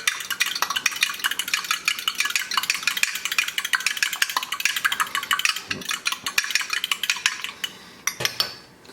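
Egg mixture seasoned with pepper and Old Bay whisked in a bowl with a utensil, a fast, steady run of close clinking and scraping strokes lasting throughout, briefly pausing near the end.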